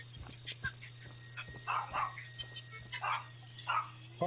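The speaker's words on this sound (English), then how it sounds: "My dog can hear your dog barking." A dog barks in a few short, faint bursts at a distance, over a steady electrical hum, with people talking in between.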